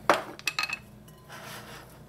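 A utensil clinks and scrapes against a bowl while mixing cheese puff filling seasoned with lime pepper sauce, mustard, food coloring, salt and black pepper, a few sharp close taps followed by softer stirring.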